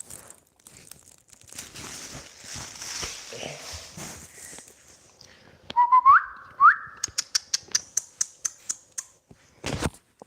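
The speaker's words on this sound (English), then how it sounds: "Well, I whistle all the time to these kitties." A person whistles to call a household of cats: a few short, close, rising whistle notes come after a stretch of talking, followed by a run of light sharp taps.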